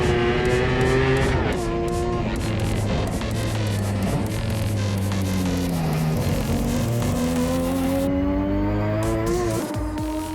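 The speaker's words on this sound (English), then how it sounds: "That's some great braking there, eh?" Race car on a track with a loud, steady engine drone and shifting pitch sweeps as it brakes, tire squeal and skidding folded into the continuous roar.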